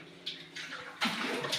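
Water is filling up, heard as a soft, steady hiss of flowing and splashing water that starts, briefly eases, then swells louder.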